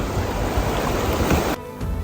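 Fast-flowing river water rushes loudly during whitewater rafting on a shallow river in Bhutan, a dense close roar that briefly drops at the end.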